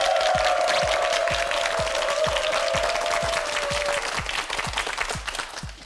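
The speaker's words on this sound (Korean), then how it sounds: "박수 보내세요." A television quiz show studio audience applauds steadily, a dense, even wash of clapping that holds loud for several seconds before starting to thin out.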